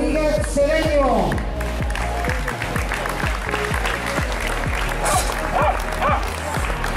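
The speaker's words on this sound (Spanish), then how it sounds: "Y os pido un fuerte aplauso para todos ellos" Outdoor crowd applause for women's 10K race winners at the Run Benidorm event, a steady wash of clapping under an amplified announcer's voice, with scattered cheers and a dog barking.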